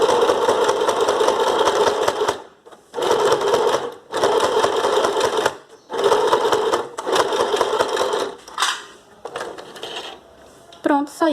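A sewing machine stitches a fabric face mask in several loud bursts of a few seconds each, separated by short pauses, with faint handling noises and a brief voice near the end.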